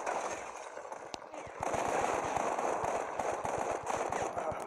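Rapid bursts of video game automatic gunfire in a free-for-all match crackle continuously over a busy, noisy background, with a single sharper shot early on before the firing intensifies.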